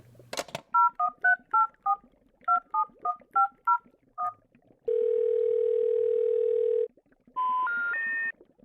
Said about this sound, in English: Oh, let's use the wall phone.